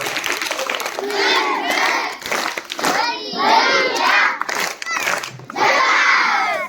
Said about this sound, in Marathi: आपल्या झकास टाळ्या वाजून त्यांचं आपण स्वागत करूया